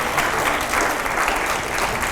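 A studio audience at a televised political panel discussion breaks into loud, continuous applause, an even wash of clapping lasting a couple of seconds without speech.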